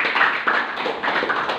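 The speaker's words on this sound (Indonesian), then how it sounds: "Tepuk tangan dong." A group clapping together at an Islamic study class, dense overlapping hand claps in a continuous patter, close and fairly loud with no voices.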